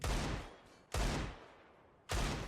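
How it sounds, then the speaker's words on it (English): Desert Eagle pistol shots in a Counter-Strike match on the Cache map, three loud, sharp reports spaced roughly a second apart, each with a short decaying tail. "He's causing issues now with the Deagle."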